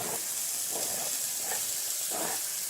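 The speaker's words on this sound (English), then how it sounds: "Now I'm going to add my red peppers, green peppers, and onions right onto this sausage" Red and green peppers and onions sizzle on sausage in a hot pan, a steady, fairly loud hiss with gentle swells and no talking.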